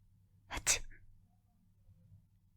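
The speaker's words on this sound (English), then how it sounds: "She sneezed, and she's doing it in an old-fashioned quiet way." A single quiet, stifled sneeze, a short sharp burst of breath, then near silence with faint room hum.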